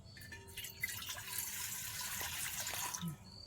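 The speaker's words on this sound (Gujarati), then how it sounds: "આપણે ગેસ શરૂ કરવી તપેલું સીએ મૂકી દેવી અને આપણે થોડું પાણી નાખવી" Water is poured into a cooking pot set on a gas stove, making a faint steady splashing trickle throughout.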